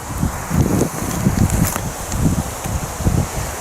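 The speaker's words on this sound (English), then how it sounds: "The wind's really picked up, hasn't it, this evening?" Evening wind gusting through woodland at a bike-and-bivvy campsite, a steady rushing roar with rustling leaves and low buffeting gusts rising and falling, close and fairly loud, no voices.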